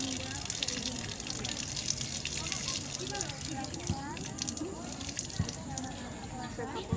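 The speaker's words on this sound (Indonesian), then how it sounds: "siram sedikit menggunakan air mutlak" Plain water poured to rinse dirt away, a steady close trickle and splashing with a few sharp knocks, while a person talks over it.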